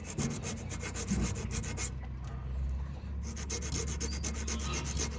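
Steady scraping as a dirty fuse terminal from a Kubota KX91-3 excavator is rubbed clean, close and continuous rasping strokes with a short pause midway.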